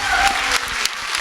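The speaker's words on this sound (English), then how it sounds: "Could I ask that we refrain from applause?" Audience at a school district meeting breaks into a short burst of clapping, a dense crowd of hands close and loud for about a second, with a voice briefly under it.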